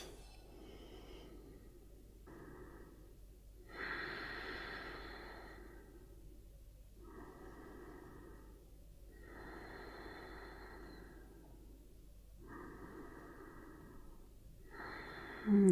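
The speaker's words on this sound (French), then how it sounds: "prenez quelques respirations profondes ici" Slow, deep breaths taken while holding a yoga posture, several long, audible inhales and exhales in a steady rhythm, close and alone with no talking.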